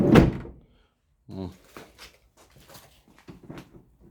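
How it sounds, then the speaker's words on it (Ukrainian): The sliding side door of a Renault Kangoo 2, its guide rails fitted with anti-squeak tape, moves with a short close thud and no squeal, followed by quieter talking and a few faint knocks. "Все, дверка не репить, не скрипить."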